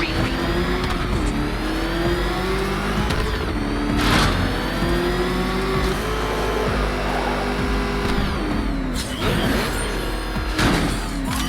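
The Batmobile's engine revs hard in the game Batman Arkham Knight, a loud, close roar that rises and falls in pitch as it accelerates, with whooshing bursts and impacts over a continuous rumble.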